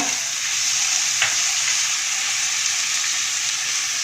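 Tomatoes fry with onions in a pan over low flame, sizzling loudly and steadily up close with a faint stir partway through.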